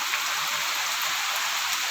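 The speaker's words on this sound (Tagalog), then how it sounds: "Grabe lakas ng ulan." Heavy rain pouring down outdoors, a dense steady hiss of drops hitting surfaces, even and unbroken throughout with no talking.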